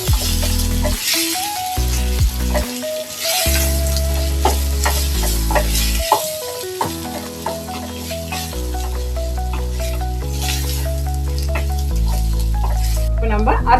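Turmeric and coriander powder are stirred and fried in a pan for a green beef roast, a close, continuous sizzle with scraping stirs and light rattles, set against background music.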